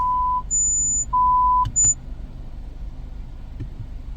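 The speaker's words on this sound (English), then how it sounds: "you can hear all the different speakers now beeping" Mazda car audio speaker test sends clear electronic tone beeps through each speaker in turn, four steady tones alternating between low and high pitch, then quiet cabin hum.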